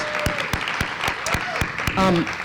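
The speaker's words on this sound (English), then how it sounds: "Please give a round of applause to Sharon Stroy" Applause at a Women's History Month celebration, sparse distinct claps at a slow, uneven pace through the clip, with a voice heard briefly near the end.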